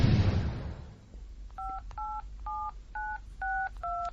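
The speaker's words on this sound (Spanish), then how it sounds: "Intentar llamar a un número extraño y larguísimo. Lo están haciendo ahora mismo" A long phone number being dialed on a mobile phone: a short burst of noise, then a brisk series of six clear keypad tones at even intervals, close and distinct, with no talk.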